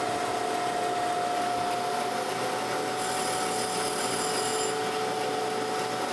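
A surface grinder wheel passes over a tapered machinery gib from a Monarch lathe, a steady hissing grind with a faint tone, brightening into a harsher high rasp partway through before easing off.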